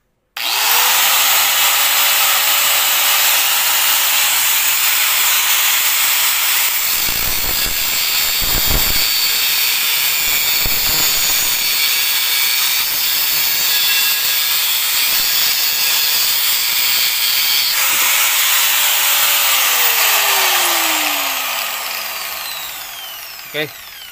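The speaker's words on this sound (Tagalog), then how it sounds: "So by the way, testing na natin." A faulty angle grinder that had run slow, rough and overheated because of a bad armature, now repaired and test-run: a loud, steady high motor whine that holds for about twenty seconds, dips briefly, then spins down as it is switched off.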